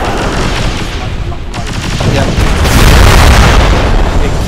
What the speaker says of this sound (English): if you can't break off, we're gonna keep providing covering fire